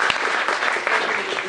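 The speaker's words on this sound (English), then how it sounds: "Let's give them a round of applause." A brief burst of dense audience clapping at an evening talk on pesticides and frogs, thanking host Atlas Cafe. It is loud and even throughout, from a crowd in a room.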